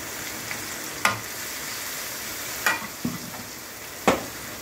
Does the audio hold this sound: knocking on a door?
no